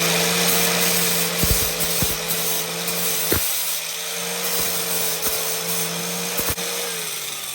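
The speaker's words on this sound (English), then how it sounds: "So I'm just gonna take my little angle grinder. I'm just gonna run it up and down here a little bit." A small angle grinder runs up and down on metal of a Ford Fiesta ST engine bay, producing a continuous high whine with shifting pitch and scattered sharp clicks and scrapes, close and loud, no speech.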